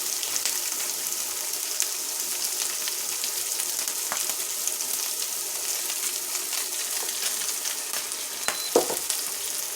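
Corned beef fries in oil and bacon fat on an induction hob, a steady close-up sizzle with faint crackles and a brief clatter of the pan near the end.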